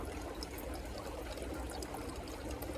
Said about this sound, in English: And just kind of give it a little pressure and water comes out there.